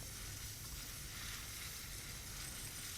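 A steady, unbroken hiss of spray scrubbing rust off gear in the video game Death Stranding, filling the whole stretch at an even, moderate level with no voices.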